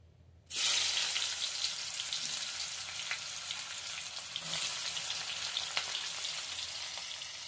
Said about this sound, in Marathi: कांदा लाल होईल तोपर्यंत परतून घेऊया।